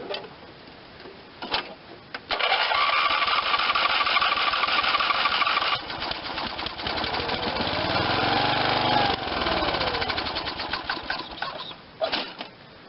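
A 1986 Lawn Chief 300 riding mower's Briggs and Stratton 8hp engine sputters a few times, then catches and runs steadily close by, its rough mechanical drone wavering in pitch, and stumbles near the end.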